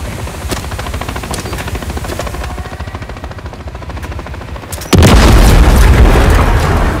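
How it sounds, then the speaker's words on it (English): A loud, sudden explosion in the video game Call of Duty Modern Warfare 3 bursts in after a stretch of rumbling engine and gunfire noise, then a roaring blast and debris wash that stays loud. "The blast got their attention, Cap."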